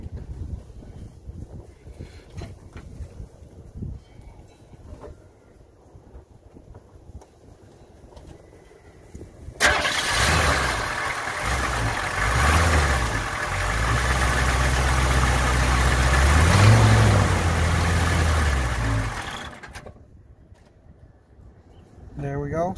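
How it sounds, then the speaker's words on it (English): A 1985 Chevy Blazer military truck with a 6.2 Detroit Diesel engine cranks and fires up, the diesel running loudly for about ten seconds before dying away, with wind noise and someone talking before and around it. "Then we're gonna go crank it over for 3 seconds."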